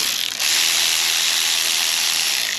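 A ratcheting flaring tool is tightened on a brake line during an ABS delete with a line lock, giving a close, loud run of rapid mechanical ratchet clicks.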